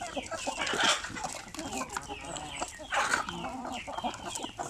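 Native hens on a farm clucking and calling close by, in irregular bursts of layered clucks with a louder flurry near the start and another later, over faint background noise.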